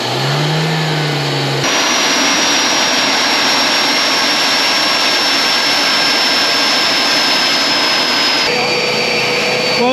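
Turbocharged engine on a turbo test barrel roars loud and sustained with a high turbine whine, stepping up in intensity as throttle is added, and voices talk faintly beneath the din.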